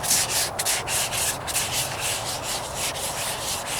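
Rattle-can paint on a 1998 Toyota Corolla hood is wet sanded by hand with steady back-and-forth rubbing strokes, close and fairly loud, in an even rhythm with no talking.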